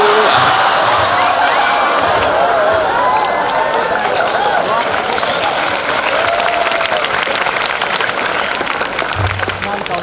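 An audience at an Islamic religious gathering breaks into sustained, loud applause with scattered cheers and whoops, the clapping steady throughout and a voice speaking underneath.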